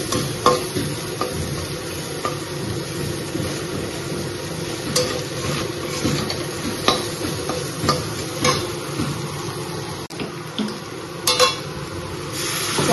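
Vegetables with ginger paste sautéing in a pan, a steady close sizzle with frequent stirring scrapes and occasional utensil clicks, no talking.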